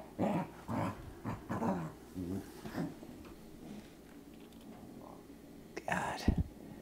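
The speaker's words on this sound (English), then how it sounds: "she's showing some serious growling, maybe potential to bite when you're going near it" A dog growls possessively over a toy in low, rumbling bursts, with soft whispery voices talking close by throughout.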